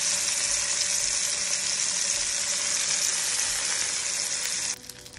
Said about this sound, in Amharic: ከዛ መጥበሻችንን አግለን ትንሽ ዘይት እናደርግና እንጠብሰዋለን።